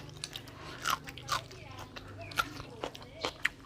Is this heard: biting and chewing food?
yes